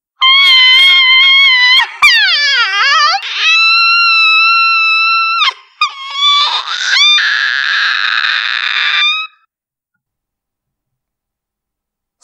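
A shrill scream of pain comes over a telephone line in a Spanish audiobook of Dean Koontz's horror novel. The loud, wavering, sustained cries rise and break for about nine seconds, then cut off into sudden silence.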